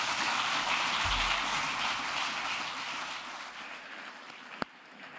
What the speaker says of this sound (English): please give a warm round of applause for Ulrich Brechbühl and Markus Diethelm